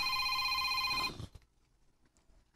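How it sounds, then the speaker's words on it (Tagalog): A cellphone ringing with an incoming call, a loud steady electronic ring for about a second that then cuts off abruptly, followed by faint handling noises and quiet room sounds. "May nanawag. Ay panghilabot sa akong cellphone ha?"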